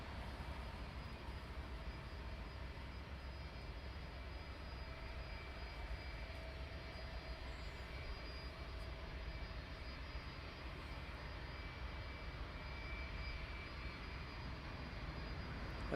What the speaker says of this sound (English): And this 757 heading directly towards us.